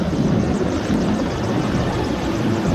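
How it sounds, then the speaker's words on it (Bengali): An air force helicopter flying overhead during street unrest in Badda, a loud, steady, close rotor roar with dense low chopping throughout. "এটা এয়ারফোর্সের হেলিকপ্টার"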